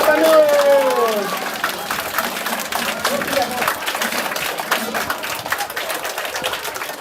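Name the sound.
applause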